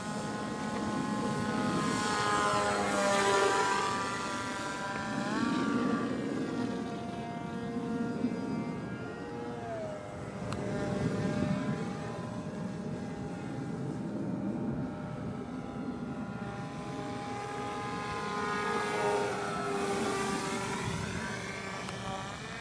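Homemade TLAR v2 drone fitted with a bigger motor flies overhead, a propeller buzz that swells and fades as it passes at moderate distance, with no voices.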